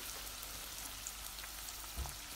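Chopped onion sizzles in three tablespoons of hot oil in a pot, a faint, even crackling hiss with a soft thump near the end.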